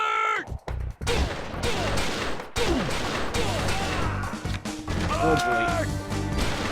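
Gunfire in the shooter game XIII, sharp crashing shots and bursts scattered through busy game noise, with someone talking briefly over it.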